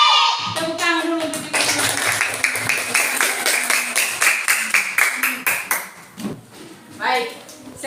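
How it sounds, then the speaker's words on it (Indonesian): Children in a classroom clap their hands in a rhythmic pattern, a run of sharp, close claps that slows and fades out near the end, with voices heard around them. "Tepuk tangan dulu."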